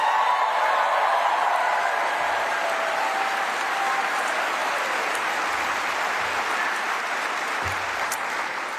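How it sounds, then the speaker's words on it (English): Sustained applause from a large rally crowd in Kalamazoo fills the whole stretch, a dense, even wash of clapping with a few faint calls underneath. "can we just give one more huge round of applause for our union"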